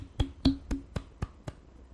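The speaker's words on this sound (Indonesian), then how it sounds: "Mantap, tepuk tangan." Six sharp, evenly spaced hand claps, close and crisp, with no voices.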